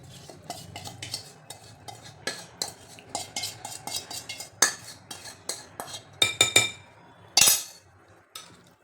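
Carrot and chili pickle being mixed with oil using a spoon in a metal bowl, with repeated scraping stirs and sharp clinks of metal against the bowl, some louder knocks near the end.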